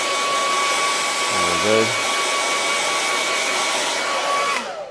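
A hair dryer runs loudly and steadily with a constant whining hum. A person says a brief phrase partway through, and the blower cuts off just before the end.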